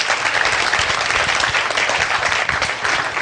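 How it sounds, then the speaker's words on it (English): A seminar audience breaks into a steady round of applause, dense clapping from many hands filling the room at full volume throughout. "give Jakob a nice round of applause"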